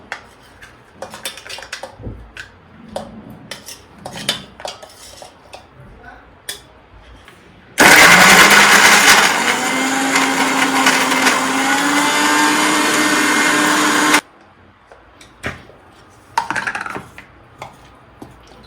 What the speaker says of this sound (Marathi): आता हे आपण मिक्सरमध्ये वाटून घेऊया